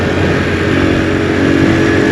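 Honda CD 70 motorcycle, 2022 model, on a local ride in Islamabad: a loud, steady engine drone with a constant low throb holding close and continuous, no talk.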